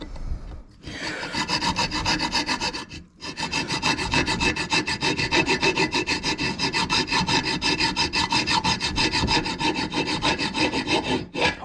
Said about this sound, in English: I'm the idiot here filing something for 15 minutes